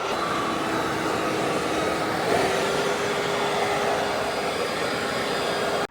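A powerful air blower runs steadily to dry freshly cleaned car wheels, a continuous close roaring whoosh with little variation and no talking.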